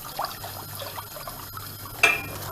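Grape juice thickened with corn starch is stirred in a pot for pepeçura, giving soft wet swishing with a louder clank of the utensil near the end, close and without speech.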